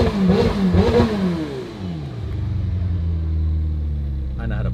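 A car engine fires up and revs on a Beverly Hills street, rising roar and throttle blips following a burst of talking voices, then a deep settling idle rumble that holds steady and close.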